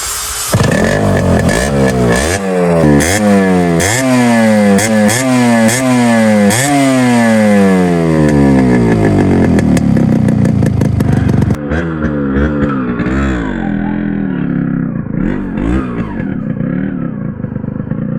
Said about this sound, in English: now we're going to take the RX115 on a first drive and give you guys my first impressions on what this bike is like to ride